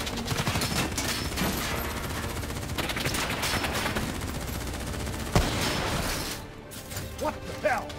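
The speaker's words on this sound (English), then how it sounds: "Who's shooting?" Bursts of automatic gunfire in the video game Call of Duty: Black Ops 3, loud and continuous with a sharp crack near the end, mixed with shouting voices and battle noise.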